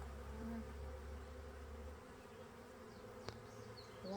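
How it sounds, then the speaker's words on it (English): Honey bees from a caught spring swarm being moved into an insulated horizontal Layens hive, a steady close buzzing drone that hums continuously with a brief sharp knock near the end, no talk. "well, I got 2 bees in here."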